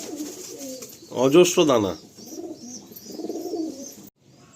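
Pigeons coo softly in a loft where birds with prized eyes are kept for sale, low murmuring calls running through most of the moment, with someone speaking over them briefly.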